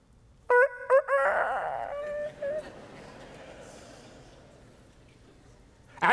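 A rooster crows as a sound effect: one loud, stuttering crow breaks into several short segments, then trails off into a soft, fading wash of background noise.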